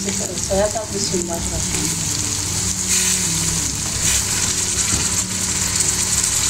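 Chili sauce and soy sauce hit a hot pan of boiled potatoes, giving a steady loud sizzle and frying hiss, with faint background voice and some clatter mixed in.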